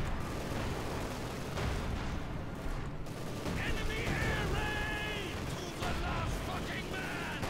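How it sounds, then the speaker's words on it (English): Artillery fire in Company of Heroes 2, a 2vs2 multiplayer match, rumbling as a dense, continuous barrage of distant booms and blasts with talk running over it. "They still have the artillery"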